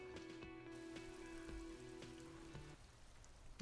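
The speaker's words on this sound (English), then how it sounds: "Oh, it's raining." Soft rain in a video game falls as a faint, steady patter and hiss, with a low tonal drone beneath and a brief tap near the end; no one speaks.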